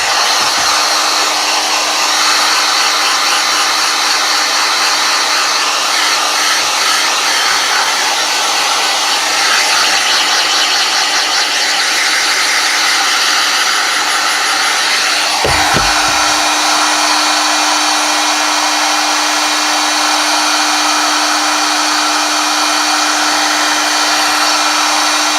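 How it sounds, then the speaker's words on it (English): Compressed air blowing debris out of a Kydex holster: a loud, continuous, broadband hiss that runs steadily for about twenty-five seconds, with a brief thump midway and no talking. "I would recommend either blowing it out with compressed air"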